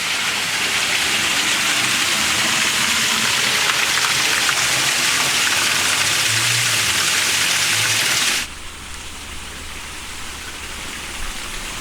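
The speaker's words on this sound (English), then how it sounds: "And the great thing about this waterfall is you can walk around the back of it." A waterfall at a seaside park that can be walked behind, its steady broadband rush of falling water filling the scene close by before the sound drops abruptly to a quieter, more distant wash.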